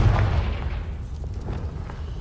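Confringo explosive spell blast in Hogwarts Legacy, a heavy booming burst at the start that rolls off into a rumbling tail with faint crackles.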